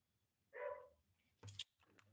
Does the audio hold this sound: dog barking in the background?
yes